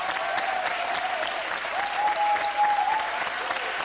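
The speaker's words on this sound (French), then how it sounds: "Et on l'applaudit." Game show studio audience applauding a contestant, dense continuous clapping at an even, fairly loud level throughout.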